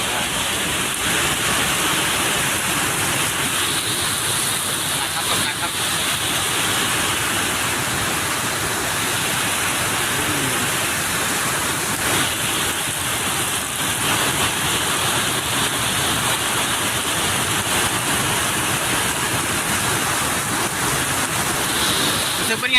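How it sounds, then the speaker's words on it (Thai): Heavy rain pours steadily over a rural Thai village, a dense continuous hiss and patter on surfaces and running water, loud and unbroken throughout. "วันนี้ฝนตกเป็นไงบ้างครับ"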